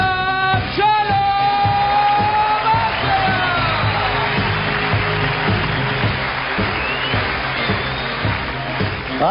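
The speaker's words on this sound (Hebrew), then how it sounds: "מחיאות כפיים לגדול מכולם, שלום" A large audience at a live comedy show in Caesarea applauds and cheers loudly for comedian Shalom Asayag, dense clapping mixed with whoops and yells, sustained for several seconds, with a sung or spoken voice at the start.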